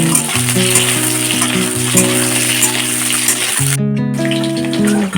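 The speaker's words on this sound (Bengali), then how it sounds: "দেখলাম আমার আলু করতে একটু ভাজা ভাজা হয়ে গেছে" Potatoes fry in a pan with a loud, even sizzle over a steady tonal hum, broken by one brief gap and a few crackles.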